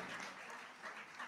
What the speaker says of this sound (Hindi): एक दफा फिर जोरदार तालियां बजाएंगे जी